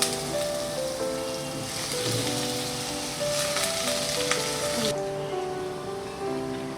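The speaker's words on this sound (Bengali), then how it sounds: "এই যে সুন্দর করে লাল লাল করে আলুটা ভেজে নিতে হবে।" Potato pieces frying in hot oil for a Bengali prawn dish, giving a steady, loud, close sizzle with crackling bursts throughout, the hiss thinning a little near the end.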